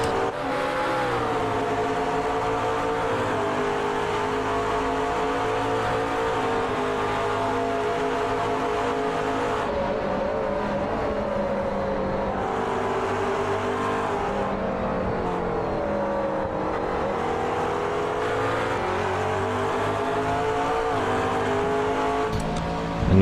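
GT race cars lapping Suzuka in a sim racing game: steady, loud engine roar with shifting pitch as several cars run close together, continuous throughout with no pauses.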